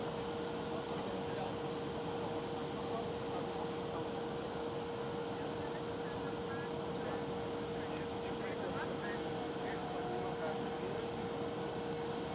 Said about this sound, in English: I do hear the Air Europe Dreamliner starting to taxi